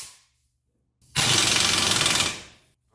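Impact wrench zapping a lower suspension bolt on a Toyota Yaris while adding camber, one sustained loud hammering burst of about a second and a half with a rapid rattling pulse, close by, between quiet pauses.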